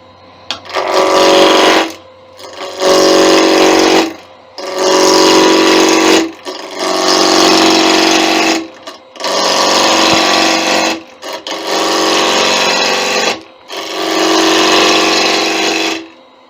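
A bowl gouge cutting a wood blank on a lathe while rounding it off for tea light holders: seven loud, even cutting passes of about two seconds each, separated by short pauses, with no talking.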